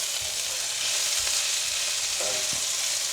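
Eggplant fries with added spices in a pan, a steady broadband sizzle running throughout with a few soft scraping stirs mixed in.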